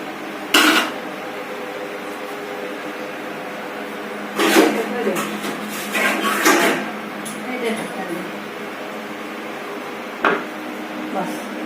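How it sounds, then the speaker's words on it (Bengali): A lid clatters onto a pan of ridge gourd and potato curry with poppy seeds, giving a few metallic clanks and knocks in a home kitchen while someone speaks. "এবার আমি ঢেকে দিচ্ছি"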